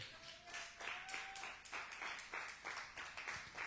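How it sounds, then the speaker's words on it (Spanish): A church congregation claps at a Spanish-language Pentecostal service during a sermon, the separate claps scattered and uneven, fairly quiet and somewhat distant, with a faint held tone at the start. "Den un aplauso al Señor Jesucristo."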